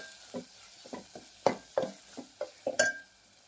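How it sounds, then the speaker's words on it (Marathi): Chutney stirred and roasted with cooked spinach in a pan for a Vidarbha-style palak dal bhaji, giving a run of close, soft scraping and clinking stirs with light sizzle between them and no talk. "चटणी भाजून घ्यायची आहे या पालक बरोबर."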